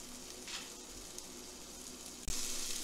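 Water hits a hot pot of vegetables with a sudden loud sizzle after a quieter stretch of low frying hiss, the steaming burst continuing to the end.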